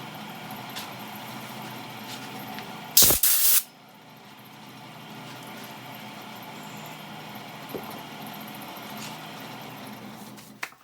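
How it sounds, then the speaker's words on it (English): A short, loud burst of compressed air sprays for about half a second amid quiet workshop background noise while work continues on a wig stand, followed by faint handling sounds. "Get a little compressed air."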